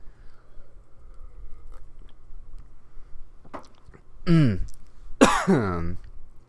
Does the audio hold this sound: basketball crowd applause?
no